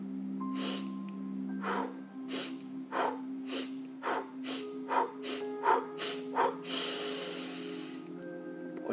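Rapid breathing exercise for stress relief: a run of forceful nasal inhales and exhales, starting spaced and quickening into a fast rhythm, ending in one long hissing exhale, close and clear.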